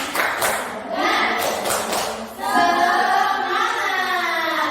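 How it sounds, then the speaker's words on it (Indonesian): A group performs a rhythmic spirit clap at a school gathering: a quick run of sharp, close hand claps, then voices chanting together in unison. "kita mau tepuk semangat dulu"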